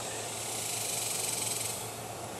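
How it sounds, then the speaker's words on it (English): A dense, continuous high-pitched buzzing drone of insects, steady and fairly loud, with no voices. "if you listen to the cicadas out here"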